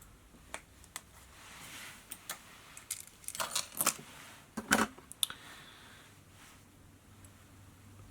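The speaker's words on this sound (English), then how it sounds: "I'm using some medium bead chain in gold, and I'm going to cut off 4 beads" Medium gold bead chain gets snipped to four beads at a fly-tying bench, giving small metallic clicks and jingles in a quiet room, with a brief cluster of taps near the middle.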